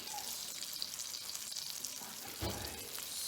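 Fish fillets fry in a pan with a continuous soft sizzle and crackle, faint and close, with a brief scrape or stir partway through.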